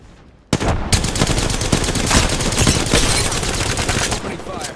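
Dense automatic gunfire in the battle royale game Apex Legends erupts suddenly and keeps up as a loud, continuous burst of rapid shots for several seconds before easing slightly at the end.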